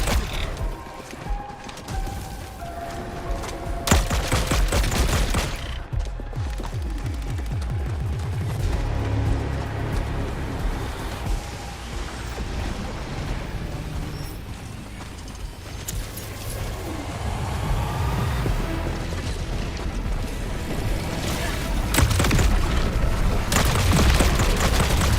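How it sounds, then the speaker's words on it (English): Mortar fire and explosions from Helldivers 2 boom and rumble continuously, with repeated heavy blasts and the rattle of gunfire in a dense, loud battle mix. "It's mortars."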